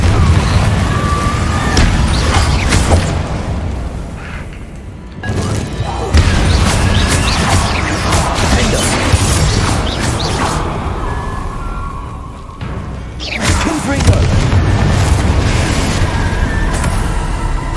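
A Confringo blasting spell from Hogwarts Legacy erupts in a loud, dense barrage of crashes and booms, with brief dips in between as several explosive bursts and whooshes pile up over the whole stretch.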